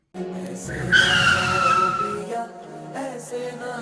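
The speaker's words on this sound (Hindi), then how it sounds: "कबीर ने तुरंत अपनी बाइक का ब्रेक लगाया" A motorbike's brakes lock into a loud, close tire skid, used as a sound effect in a Hindi story; one screeching slide lasts about two seconds, then fades into a softer, ringing background tone.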